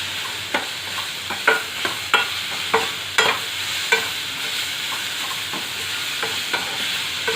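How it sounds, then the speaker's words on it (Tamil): Chopped tomato with ginger and green chilli sautés in a pan for South Indian vada curry, a steady sizzle broken by repeated sharp scrapes and knocks of the spoon as the mixture is stirred. "நல்லா வதங்குது."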